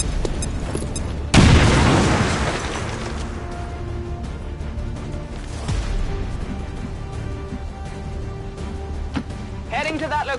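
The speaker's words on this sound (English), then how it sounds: "Throw a grenade!" A grenade explosion in a PS4 video game goes off as one loud, close boom with a long rumbling decay, and other game sounds continue underneath.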